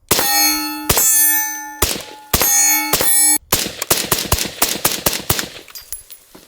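A suppressed Springfield Armory Hellion rifle fires in a string of sharp metallic cracks, each followed by a ringing clang. Several rounds are spaced apart, then a fast burst of shots comes close and loud.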